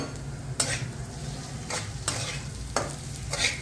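Soaked fenugreek seeds frying in ghee in a pan, with a steady sizzle broken by several sharp stirring scrapes of a spoon against the pan.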